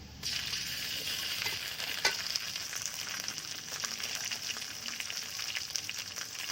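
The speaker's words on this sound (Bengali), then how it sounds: "এবার দিয়ে দিব একটু আদা রসুন জিরে বাটা" Ginger, garlic and cumin paste hitting onions already fried in a pan on the stove, producing a loud, steady sizzle throughout with a brief sharper crackle partway, no voices.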